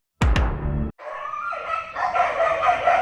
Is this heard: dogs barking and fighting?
yes